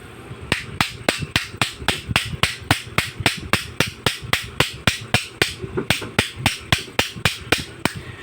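Steady series of sharp metallic hammer blows on an electric fan shaft, about three or four per second, close and evenly paced for the whole stretch.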